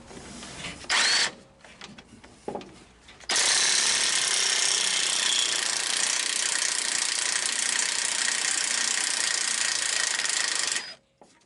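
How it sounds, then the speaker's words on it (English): A cordless impact wrench hammers loud and close as it removes U-bolts on a square-body 4x4 truck, with a few short bursts followed by one sustained rattling run of about seven seconds. "I'd have never thought you could take one and actually take U-bolts off with it,"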